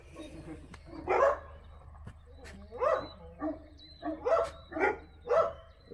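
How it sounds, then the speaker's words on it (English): A dog barks repeatedly at a red truck coming up a driveway: about six sharp, close barks in an uneven rhythm, with softer whimpering yips between them and no talking. "Bruno doing the old gar bark"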